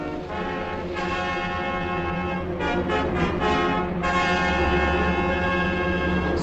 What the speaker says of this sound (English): It's flying on 3 engines.